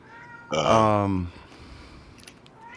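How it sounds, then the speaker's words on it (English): A cat lets out one long, loud, drawn-out meow close by, followed by quiet room noise with faint small movements. "he's just the chattiest cat"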